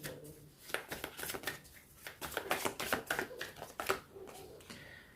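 Tarot cards being shuffled close up, a quiet run of crisp riffling bursts and papery slaps in an irregular rhythm, with no talking over them.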